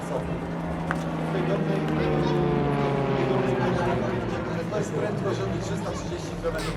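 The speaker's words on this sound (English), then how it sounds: "And here comes Jelani, probably Poland's most famous civilian aerobatic team." A Zlin propeller aerobatic aircraft of the Jelani team flies at the Gdynia AeroBaltic Airshow, a steady engine drone with a slowly shifting pitch beneath continuous commentary.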